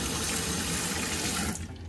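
Tap water runs steadily into a sink with a broad, hissing splash, then tapers off near the end as the flow is cut.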